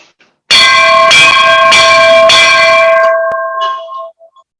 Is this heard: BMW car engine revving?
no